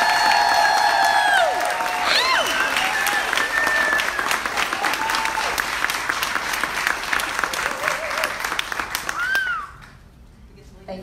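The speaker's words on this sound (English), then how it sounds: "if you could give them a great big round of applause" A large cruise-ship audience applauds and cheers for the class instructors, dense clapping with whoops and whistles running loud for about nine seconds before thinning out near the end, with voices mixed in throughout.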